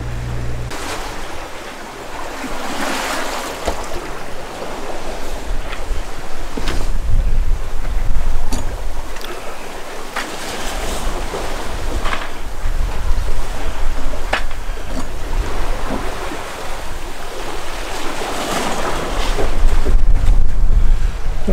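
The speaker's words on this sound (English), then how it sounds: "We have some wind behind us now" Steady wind and breaking waves rush around a sailboat under a parasailer at sea on passage from the Bahamas toward Charleston, a continuous broadband roar with microphone wind buffeting and no voices.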